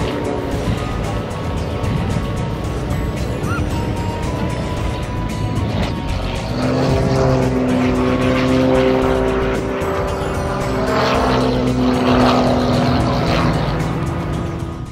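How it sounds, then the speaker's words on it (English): An RNZAF Red Checkers Air Trainer propeller aircraft makes a slow pass just above stall speed, producing a loud, steady engine drone with a shifting pitch that swells midway. "Flying at just on 55 knots, only slightly above the stall speed, the air trainer seems to be almost hanging in the air."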